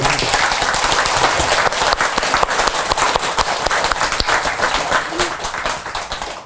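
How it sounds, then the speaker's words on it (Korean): Congregation at a regular Buddhist temple dharma service claps together in a loud, busy burst of applause, with sharp individual claps standing out and the sound easing slightly toward the end. "박수 치고."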